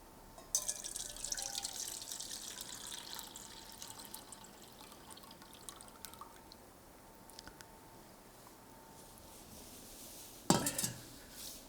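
Water is poured off from a bowl in a kitchen-style setting, a steady close trickle and splash running for several seconds, tapering to drips, then a sharp ceramic clink near the end.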